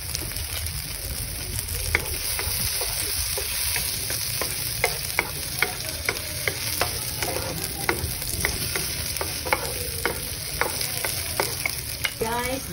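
Tomatoes and spring onions sauté with pork for a carrot and sayote dish, giving a steady, close sizzle with repeated scraping stirs of the spatula through the pan.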